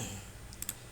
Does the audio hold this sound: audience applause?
no